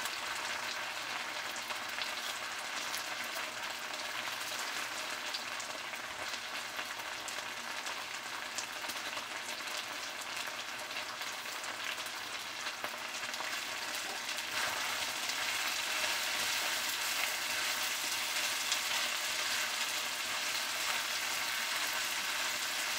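Vegetables stir-frying in a pan with steak and shrimp, a steady hissing sizzle that holds evenly throughout, close and fairly quiet, with no voices.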